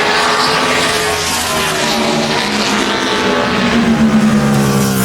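A NASCAR Sprint Cup race car on a 2010 qualifying lap at Bristol Motor Speedway screams past in a loud, sustained engine roar whose pitch shifts as it works around the track.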